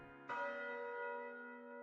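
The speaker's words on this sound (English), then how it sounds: "the familiar toll of the bell rings again" A single deep church-style bell toll in the video game Path to Nowhere, struck once and ringing out with long, slowly fading resonant overtones.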